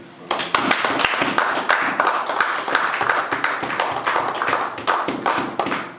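Congregation clapping during a Sunday church service, a dense sustained round of applause with rapid overlapping claps lasting throughout, voices faintly mixed in.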